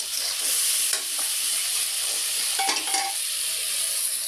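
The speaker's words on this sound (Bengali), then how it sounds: "আমরা এখন মশলা কষাই নিচ্ছি" Spices stir-fry in a pan with a steady, quiet sizzle and occasional spatula scrapes against the metal.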